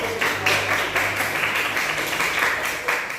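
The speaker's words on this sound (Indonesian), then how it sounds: "Berikan tepuk tangan." An audience at a classroom teaching presentation claps together in a short, moderately loud burst of applause, steady throughout with no talking over it.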